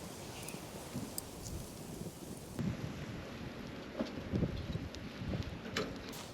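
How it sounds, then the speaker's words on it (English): Strong wind at a campsite on Verneukpan, a steady roaring rush buffeting the microphone with gusty swells throughout, no voices. "Oh, the wind is so unpleasant."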